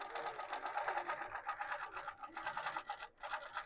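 A longarm quilting machine stitches a wholecloth quilt at about 14 stitches per inch, giving a fast, steady mechanical whir with rapid rhythmic needle pulses, close and fairly quiet.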